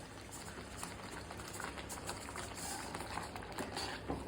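Sweet pineapple pachadi with apple bubbles in a pot as it thickens, a soft constant stream of small pops and gloops, quiet and close, with no voices over it.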